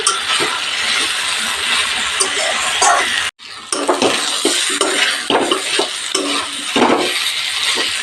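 Vegetables with grated coconut fry in a pan while a spoon stirs and scrapes against the metal, producing clattering knocks over a continuous sizzle; close and loud, with a brief pause midway.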